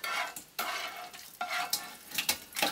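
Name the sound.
pork fat and skin pieces sizzling as they are stirred in a pot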